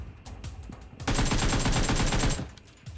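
Rapid automatic gunfire in the Metro Royale shooter game, a loud dense burst of overlapping shots lasting over a second, with quieter scattered shots before and after.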